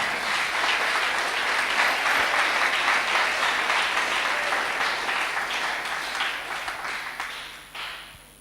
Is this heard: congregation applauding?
yes